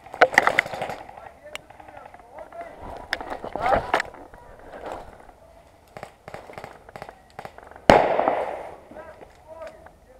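An airsoft grenade goes off behind trees during an outdoor game, sounding as sharp pops and bursts at a middle distance, with players' voices and rustling between the blasts.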